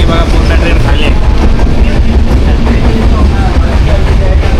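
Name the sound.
Jamnagar Tirunelveli Express train at Sangameshwar station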